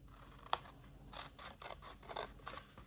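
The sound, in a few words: scissors cutting paper for a gift box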